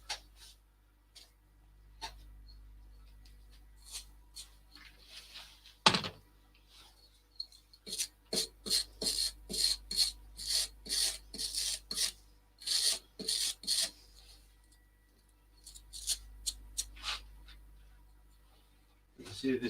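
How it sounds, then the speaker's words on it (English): Sandpaper on a pad rasps against still-wet wood being turned, coming in repeated rhythmic scratchy strokes that stop and restart, with a low motor hum underneath and quiet gaps between bursts. "this wood is still a bit wet, so it is clogging the paper up a wee bit when I'm sanding"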